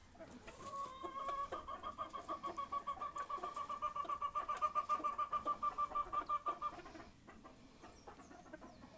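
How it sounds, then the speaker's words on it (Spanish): A rooster from a fighting-breed lot on a farm gives a long run of rapid, rhythmic clucks that rises and holds for several seconds before stopping, close and moderately loud with no talk over it. "Precioso pollo, ¿no?"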